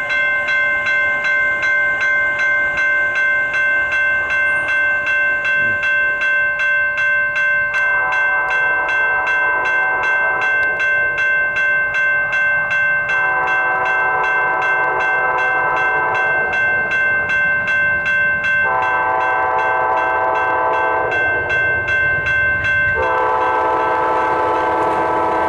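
An Amtrak train led by locomotive 835 rolls past at Gilmerton with a steady loud rumble, and its multi-tone horn sounds in several long, close blasts over the last two-thirds of the pass.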